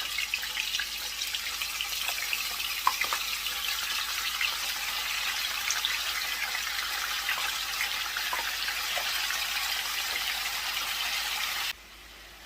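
Rinsed, still-wet pork sizzles steadily in a hot pan, a broad crackling hiss with faint scattered pops that holds even and close for most of the time, then cuts off abruptly near the end.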